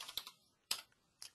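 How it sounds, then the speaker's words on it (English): Three sharp keystrokes on a computer keyboard, the middle one louder, as the tab key is pressed during form entry; close and clear, with no talking. "And then I do tab on the keyboard"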